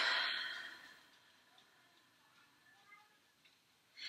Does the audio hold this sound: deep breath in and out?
yes